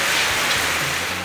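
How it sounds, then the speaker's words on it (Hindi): Heavy rain in Karachi pours down in a dense, continuous hiss, loud and close with no voices. "जामशोरों T7 इंडस हाईवे पर भी मूसलाधार बारिश हुई।"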